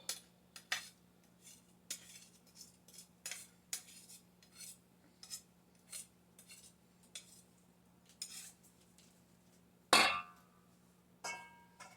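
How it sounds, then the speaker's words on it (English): A spoon clinks repeatedly against a bowl while wet ingredients for zucchini bread are mixed, giving irregular taps every half second or so. One sharper louder clank near the end, all close up over a low steady hum. "When mixing the wet ingredients, I like to use a slotted spoon."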